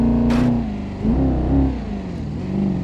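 A car engine revving in the video game BeamNG.drive, a steady close drone that rises and falls in pitch, with a short hissing burst near the start.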